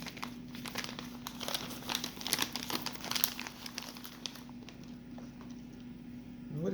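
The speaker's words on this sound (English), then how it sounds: "I'll put the second bag of this" Shredded mozzarella cheese poured from a plastic bag onto a baked ziti makes a busy crinkling and pattering that peaks midway, then fades, with a steady low hum underneath.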